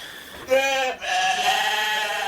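Sheep bleat on a Norwegian sheep farm of about 200 head: two loud, close, wavering bleats follow one another with a short pause between, over a quiet barn background.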